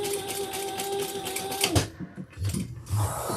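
A sewing machine stitches a toiletry bag with a steady mechanical whir that stops partway, followed by a few short bursts of stitching and handling noise, close and fairly quiet.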